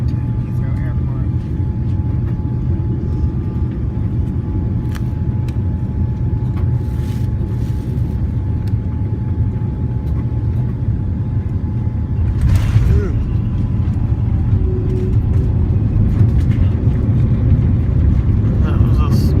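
Steady low roar inside an airplane cabin on approach to land at Heathrow Airport, a constant engine and air hum with a mild rise in level toward the end, with no talk over it.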